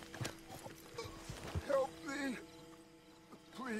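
Horse hooves clip-clopping in the video game Red Dead Redemption II, a faint, quiet rhythm of steps with a brief whinny and soft game ambience, no speech over it.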